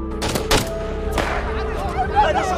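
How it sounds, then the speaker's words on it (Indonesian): Sniper gunshots from the war film Mosul ring out as two or three sharp cracks in quick succession early on, followed by a lingering rumble and a voice speaking. "terdengar sebuah tembakan dari seorang sniper yang menargetkan para warga sipil"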